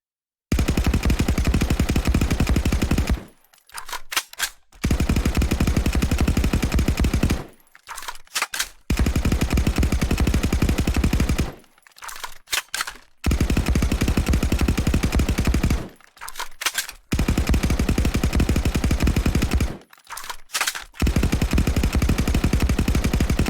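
Sustained bursts of Mark 18 rifle fire from a tactical shooter video game, each lasting three to four seconds, broken by short pauses; the automatic gunfire is loud, dense and close, with no talking.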